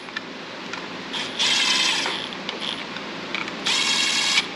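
Bolts are run in by hand during a cam install on an LS engine, heard as close, quick ratcheting and raspy turning in several bursts, two of them longer and louder, over a quiet background with no talking.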